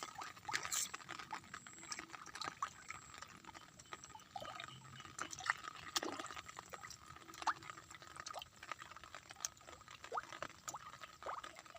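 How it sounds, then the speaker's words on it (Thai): Rain falls faintly on a rural fish pond area, with a soft steady patter and scattered light drips and taps, quiet and without voices. "วันนี้ก็ฝนตกแฉะ"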